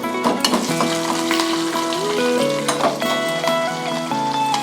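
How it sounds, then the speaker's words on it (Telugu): Green chillies hit hot tempering oil already holding urad dal, mustard seeds and cumin, giving a close, loud, continuous sizzle and crackle of frying for tamarind-leaf dal, with no talk. "పోపు వేగిన తర్వాత పచ్చిమిర్చి వేసుకోవాలి."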